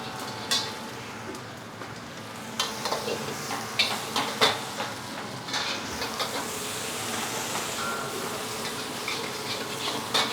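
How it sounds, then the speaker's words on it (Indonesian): Hard vegetables stir-fry in a pan for egg capcay, a steady sizzle under scraping and clinking of a spatula with irregular metallic knocks, close and busy, no voices. "Sayuran keras masuk."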